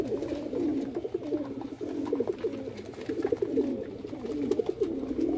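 Pigeons coo steadily in a new pigeon loft, overlapping low throaty calls rolling on continuously at close range with no talking over them.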